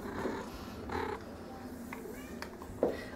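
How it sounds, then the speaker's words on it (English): A friendly female cat at a county humane society adoption shelter purrs softly and continuously at close range, with faint background noise and a small knock near the end. "Lovely cat, very friendly."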